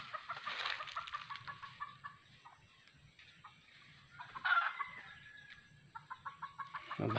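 Wild jungle fowl clucking in quick rhythmic bursts at moderate distance, with a crow-like call rising midway, faint in a quiet outdoor setting.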